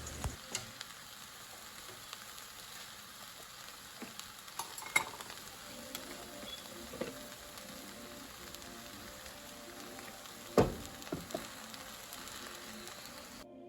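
Chow mein noodles tossed in a pan with teriyaki sauce, a soft sizzle under intermittent scraping stirs and clatters of the utensil, quiet and close with no talking.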